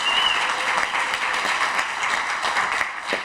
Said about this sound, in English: Please give Mr. Kistner another round of applause